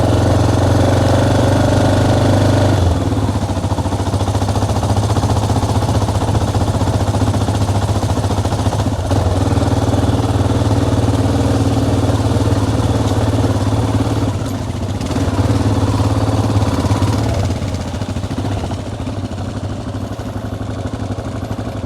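A 1988 Yamaha Ténéré motorcycle engine idles loud and close on a rainy, muddy Amazon trail. The rumble is steady and unbroken for over twenty seconds, with faint rattles and no talking.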